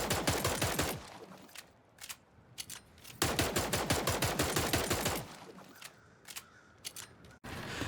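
Heavy pistol fire in the shooter game Splitgate 2 comes in two loud, rapid bursts of sharp cracks, with a quieter stretch of scattered single clicks and shots between them.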